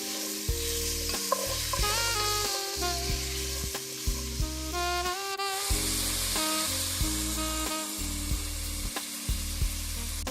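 Carrots, celery and other vegetables sautéing in a pot for creamy chicken noodle soup, a soft sizzle with repeated stirring scrapes over a low hum and some tonal background, close and with no talking.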